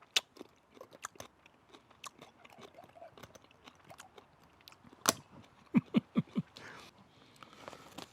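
Crunchy bites and chewing while tasting quick-pickled red onion from a Kilner jar, a scattered run of close, moderately loud crisp crunches with a stronger burst of chews near the end, no talking.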